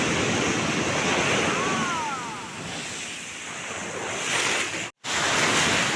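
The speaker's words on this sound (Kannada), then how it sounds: "ಅಲ್ಲಿಂದ ಈ ಕಡೆನೇ ಅಲೆಗಳು ಬರುತ್ತೆ, ಬೌನ್ಸಿ ಆಗುತ್ತೆ" Ocean waves at Hejamadi beach in Udupi, where kayaking is going on, make a steady roar of surf mixed with gusting wind noise on the microphone, with faint high calls drifting briefly through and a short dropout near the end.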